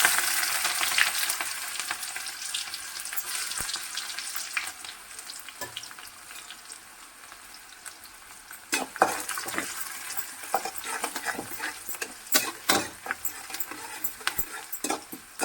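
Cumin seeds and onion fry in hot mustard oil, a bright continuous sizzle with crackling pops, then louder bursts of spluttering and stirring scrapes toward the end, close and without talk.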